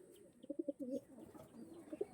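Soft, throaty cooing from star Kalanka pure-bred pigeons comes in a few quick pulses and then a drawn-out murmur, faint and close, with no talking.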